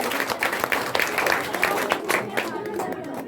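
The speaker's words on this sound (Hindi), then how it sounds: "कृपया आप सभी छात्र छात्राएं उनके लिए जोरदार तालियों से उनका स्वागत करेंगे।" Students at a coaching-class opening ceremony applaud, with loud, close clapping from a group in a room, irregular and uneven, fading toward the end while voices talk underneath.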